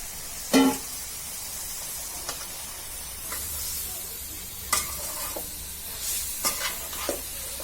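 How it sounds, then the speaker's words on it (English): Minced mutton and onions with masala are stirred in a pan, giving scattered scraping knocks of a spoon over a soft, continuous frying sizzle. "We'll mix it nicely till it gets totally absorbed. Minced mutton should get absorbed with the onions"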